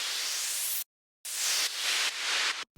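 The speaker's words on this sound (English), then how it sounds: "there's also these sweeps, which are just white noise sweeps, which I use on every Tech Trance track I do" Loud white noise sweeps from a tech trance track: broadband hiss that surges and cuts off abruptly, with one long gap and a short dropout, and no other sound.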